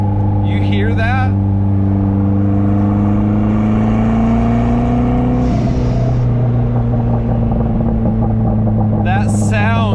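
A Mazda Miata's newly built forged 1.6L compound turbo engine revs loudly while driving, a steady throaty drone with rising and falling pitch, heard close from inside the car as a voice talks over it.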